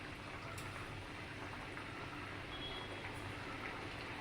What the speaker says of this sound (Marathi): मी माझा जो दुसरा स्लॉट आहे तो पण फ्राय करून घेते